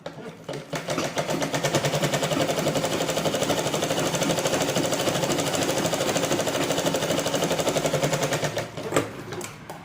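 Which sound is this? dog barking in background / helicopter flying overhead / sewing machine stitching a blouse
sewing machine stitching a blouse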